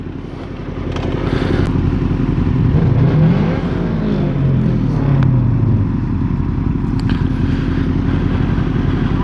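Several motorcycles riding together on the road, one of them heavily modified, with a steady loud engine drone and wind roar, rising revs and a passing engine note sweeping through the middle.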